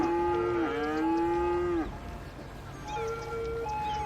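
Cows in the city-building game Cities: Skylines moo repeatedly, long wavering calls close by over a low steady background hum, with a pause between them.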